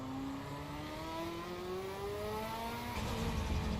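A twin-turbo race car engine in Assetto Corsa EVO holds a steady, rising drone as it climbs through the revs, a smooth continuous whine with no break and no talk over it.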